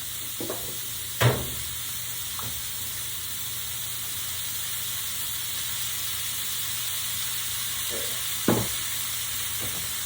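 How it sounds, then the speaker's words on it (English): Food cooking in oil in a pan gives a steady bright sizzle throughout, broken by two louder scraping stirs and a few soft knocks, close and without talk. "Give that a little stir. We're going to put a little extra oil in there."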